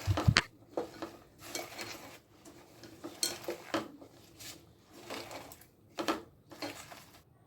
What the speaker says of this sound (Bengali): মশলা মাখানো হয়ে গেলে ভালো করে তরকারিগুলো মশলার সঙ্গে আমি মাখিয়ে নেবো